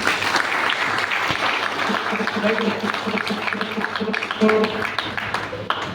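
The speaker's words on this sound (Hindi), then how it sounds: "तो तालियां बजा लें अपने लिए" Audience applause at a business seminar hall, a dense wash of clapping from a seated crowd filling the whole stretch, with steady tonal hum and some voices murmuring underneath.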